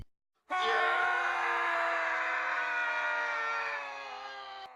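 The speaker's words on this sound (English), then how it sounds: "The screams had startled him." A long, loud, sustained scream in a Halloween audio story, bursting in after a brief silence and holding a strained wailing tone for several seconds before easing slightly.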